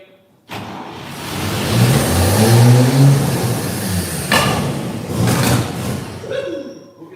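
A 1950 Chevy pickup truck pulled from a forest cranks and catches with a sudden burst, then runs loud and rough, its engine swelling and dipping with uneven revs. Brief sharp knocks sound near the end.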